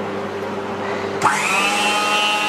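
An automatic roti-making robot runs with a steady mechanical whir, then a motor spins up sharply, rising to a higher, louder whine that holds to the end; no talking.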